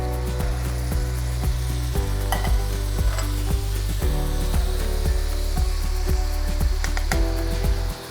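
Ground beef, black beans and two cans of Rotel original tomatoes stirred in a hot pan, with loud, steady sizzling under repeated scraping spoon strokes at close range and no talking.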